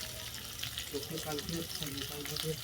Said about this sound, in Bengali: ওলকপি আর আলুটাকে বাদামি করে ভেজে নিচ্ছি